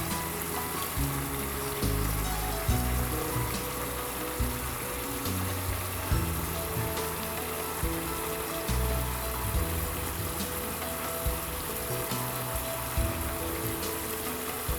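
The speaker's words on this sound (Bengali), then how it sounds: "এর মধ্যে আমি এখন পেঁয়াজ অ্যাড করবো অনেকগুলো পেঁয়াজ" Onions added to a frying spice paste for lamb curry, giving a steady moderate sizzle with soft crackling and occasional stirring bumps, no talking.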